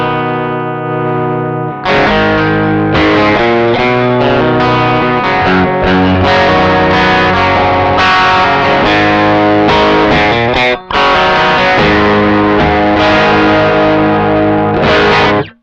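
Electric guitar through a NUX 63 Diamond pedal with the volume rolled back to a clean tone: a sustained chord, then a steady run of strummed chords with a brief gap partway through, played alone with no talking.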